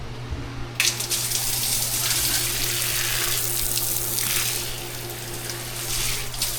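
Shower spraying water in a bathroom, a steady hiss that starts abruptly and runs on close and fairly loud under a low background hum, with no talk.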